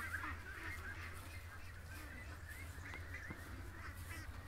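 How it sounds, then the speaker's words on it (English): Agitated ducks call repeatedly outdoors, a cluster of honking, quacking cries at moderate distance over a steady low background rumble, with no talk. "I pulled in with the car and the ducks were freaking out."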